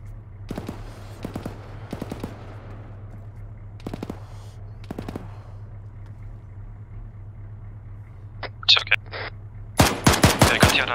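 Gunfire in the Frontline video game (RHS mod, FOB Obeh map): several short bursts of automatic fire over a low steady hum, then a louder, rapid volley of shots at the end.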